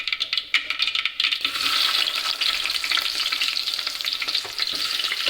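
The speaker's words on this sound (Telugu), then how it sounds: "నేను కోసినవి ఉల్లిగడ్డలు వేసుకుంటాను" Chopped onions land in hot oil in a frying pan while cooking a potato fry curry, setting off a loud, steady sizzle that swells after a second and keeps crackling with small spatters and scrapes.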